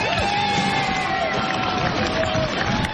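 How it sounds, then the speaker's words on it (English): A crowd in Watertown cheers, whoops and applauds after the suspect's capture, loud continuous outdoor roar with shouting voices layered over clapping. "A crowd in Watertown erupted in applause after hearing police got their man."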